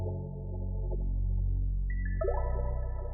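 Synth melody from the Spawn VST plugin, drenched in reverb and run through a reverse effect, swelling into a sustained tone before a brighter layered chord enters near the end, alone and moderately loud.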